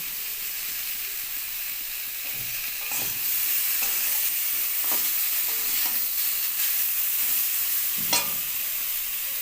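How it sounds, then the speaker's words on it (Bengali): Spices and vegetables are worked together in hot oil for a tilapia curry with papaya and potato, making a steady hissing sizzle. A few soft stirring scrapes break through near the pan, with no talking. "মশলাগুলোকে একসাথে সবজির সঙ্গে ভালো করে কষিয়ে নিলেন এভাবে কিছুক্ষণ কষিয়ে নেওয়ার পর"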